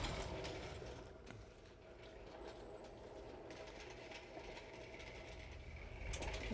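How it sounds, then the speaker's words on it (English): Engine hoist (cherry picker) lowering a Honda twin cam engine into a 1994 Honda Civic GSR, with faint mechanical ratcheting, creaking and clicking in a quiet garage, soft and continuous with a few sharper ticks. "You hold the engine, I'll drive the cherry picker."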